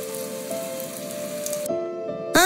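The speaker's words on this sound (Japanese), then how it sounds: "雨が降ってきた。" Rain begins to fall in the game Code Geass Lost Stories, a steady soft patter that holds for a couple of seconds under sustained gentle music tones, with a brief brighter swell at the end.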